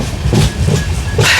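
Gomteshwara Express passenger train running on rails between Yesvantpur and Mangaluru, with loud, close rhythmic clickety-clack bursts of wheels over rail joints under a constant rolling rumble.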